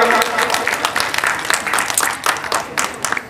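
An audience at a stage event bursts into strong applause, many hands clapping in a thick, uneven patter at close range.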